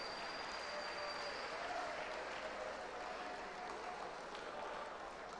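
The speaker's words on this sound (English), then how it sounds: "Let's give a round of applause to Mfantsiman Girls SHS for placing sixth position." Sustained audience applause fills a hall at a national public speaking competition grand finale, honouring the school that placed sixth; steady, dense clapping at moderate level with no clear voices on top.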